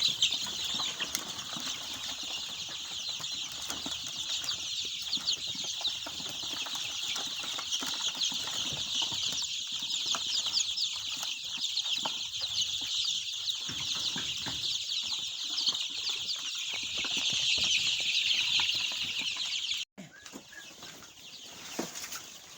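Many chicks cheep continuously in a dense high chorus, with scattered wing flaps and rustling, close by in a brooder, ending with a brief thud.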